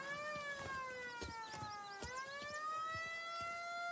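Police siren in the video game Mafia, a loud wailing tone rising and falling in pitch, sounding steadily over a busy background of short clattering noises, with no talking.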